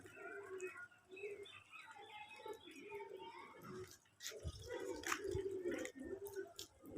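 Several domestic pigeons coo in soft, repeated throaty calls close by on a pigeon farm, with some rustling and wing flaps and a person speaking intermittently over them.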